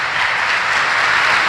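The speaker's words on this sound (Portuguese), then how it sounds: "Salva de palmas aí para Manu, que está aniversariando" A church congregation applauds for a member's birthday, a dense steady wash of clapping filling the room without break from start to finish.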